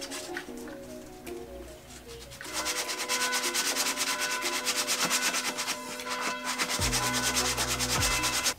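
Sanding a VW T4 Syncro starter motor contact point down to bare metal; a steady, loud abrasive rubbing that grows harsher partway through, with a low motor hum joining near the end.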